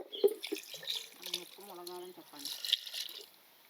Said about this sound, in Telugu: దీంట్లోని రెండు గ్లాసులు నీళ్ళు పోసుకుంటున్నాను